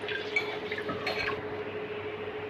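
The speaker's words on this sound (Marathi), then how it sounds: "छान दोन पाण्याने धुवून घेणार आहे" Masoor and moong dal being rinsed in water, with steady close watery swishing and dripping across the whole stretch and a brief splash near the middle.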